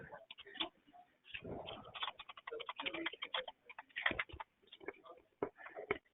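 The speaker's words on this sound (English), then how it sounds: "So I'll hit save, and then just type in the password." Someone types a password on a computer keyboard: quiet, irregular runs of small key clicks, close by, with short pauses between bursts.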